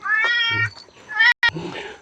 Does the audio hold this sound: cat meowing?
yes